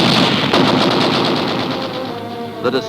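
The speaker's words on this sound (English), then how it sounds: "a torrent of gunfire is turned on the crippled sub" Loud, sustained rapid-fire machine gun bursts rattling continuously, fading slightly toward the end with a couple of sharper cracks.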